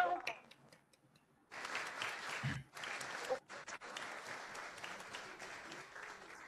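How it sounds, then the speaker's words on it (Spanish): Applause from a group of young people at a Christmas posada celebration in Chihuahua, starting after a quiet moment and continuing steadily, somewhat distant, with voices mixed in. "Aplaudan, jóvenes, saluden."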